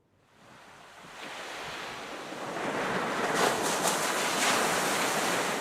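Sea waves roar steadily onto the shore, a broad rushing wash that swells from quiet to loud and holds, with wind buffeting the microphone.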